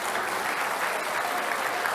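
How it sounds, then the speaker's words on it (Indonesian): Dense, steady applause from a studio audience at a Jakarta gubernatorial candidates' debate, filling the whole moment without pause. "Kita kasih tepuk tangan untuk kedua kandidat."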